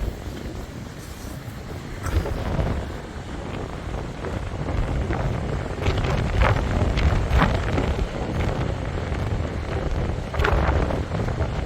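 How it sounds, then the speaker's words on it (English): Constant loud wind buffeting a microphone on a beach, rumbling and gusting throughout, with surf roaring underneath as rollers come in every 5 to 8 seconds. "I'm sure this is going to be very windy, this recording."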